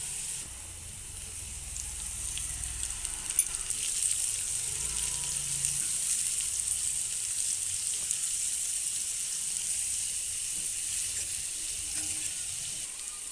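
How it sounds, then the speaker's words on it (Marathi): Chopped spring onions and fenugreek leaves sautéing in a pan give a soft, steady sizzle and hiss, low and continuous in the background. "आता यामध्ये एक वाटी चिरलेली कांद्याची पात टाकून परतवून घेणार आहोत"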